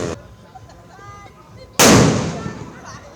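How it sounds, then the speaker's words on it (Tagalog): A firework or firecracker goes off in the street on New Year's, a single loud, sharp bang with a lingering rumbling tail after a stretch of quieter background. "May nagpabuto usab diha sa kadalanan."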